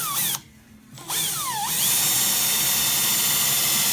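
A power drill with less-than-sharp bits bores a mortise into wood: a loud, close whine that briefly cuts out, then restarts and rises in pitch before settling into a steady, sustained drone.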